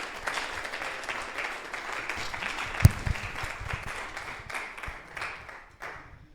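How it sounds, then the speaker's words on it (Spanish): An audience at a jazz encyclopedia presentation applauds a speaker, a dense, steady wash of many hands clapping that gradually thins and fades toward the end. "un fuerte aplauso más para él"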